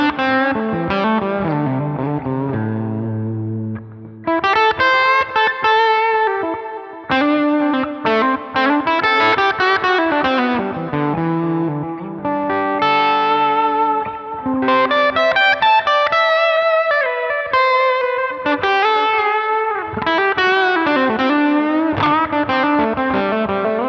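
Electric guitar played through a Line 6 preset with hall reverb and tape delay, ringing out loud sustained chords and melodic runs with a distorted, shimmering tone and long echoing tails, with no talking.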